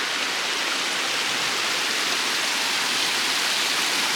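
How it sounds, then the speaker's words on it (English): White Oak Flats Falls, a cascading waterfall in the Great Smoky Mountains, gives off a steady, dense rush of falling water. The roar stays even and close with no voices over it. "that was White Oak Flats Falls"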